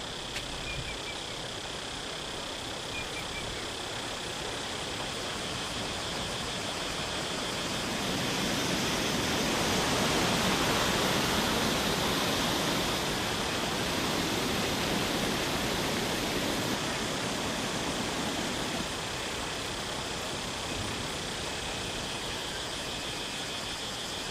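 A hidden waterfall near Eerattupetta roars as a dense, unbroken rush of falling water, loud and enveloping, swelling slightly in the middle.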